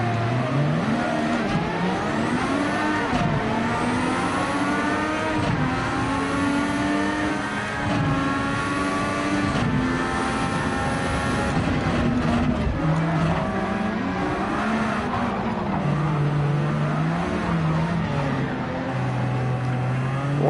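A Formula One car engine in Gran Turismo 7 revs loudly and continuously, its pitch climbing and dropping through repeated gear changes and accelerations for the whole stretch, with no talking.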